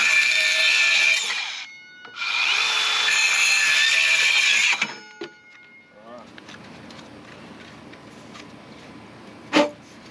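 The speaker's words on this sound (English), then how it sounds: "I'm using this little DeWalt handsaw" A small DeWalt handsaw cuts PVC pipe at an angle in two long, loud, close rasping strokes, followed by quieter scraping and handling noises and a single sharp knock near the end.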